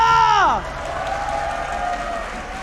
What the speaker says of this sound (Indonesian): mari kita ramaikan tepuk tangannya!